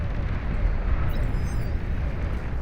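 Continuous dense rumble of massed explosions from a large 8v8 real-time strategy battle in Beyond All Reason, loud and steady with a heavy low end and no pauses throughout.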